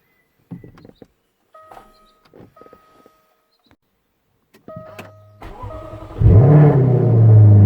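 A Jaguar F-Type with a flat battery is unlocked with clicks and a relay chatter, then the engine cranks and fires into a loud, sustained rev that settles into a strong idle, with no talk.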